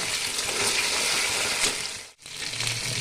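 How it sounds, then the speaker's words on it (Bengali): Taro pieces stir-fried in hot oil make a loud, dense, watery sizzle throughout, broken by one sudden brief gap of silence near the end. "এবার কচুটা নাড়াচাড়া করে ভেজে নেব।"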